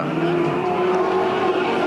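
A 1975 Bathurst race car with newly replaced front brake calipers pulls out of the pits, its engine a loud, steady, close drone for about two seconds.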